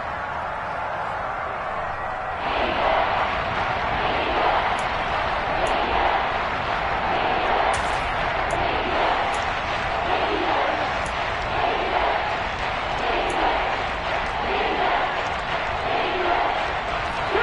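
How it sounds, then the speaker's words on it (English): A football stadium crowd shouting while watching a replay, a steady loud roar of many voices that swells a few seconds in and holds, with a commentator's voice faintly mixed in. "Plenty of shouts from this crowd as they watch the replay."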